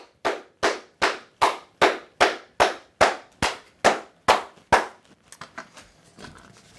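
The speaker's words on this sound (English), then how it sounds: "Everybody clap it up." One person clapping slowly and loudly, about a dozen sharp, evenly spaced claps close to the microphone in a small room, stopping abruptly and followed by a few faint knocks and rustles.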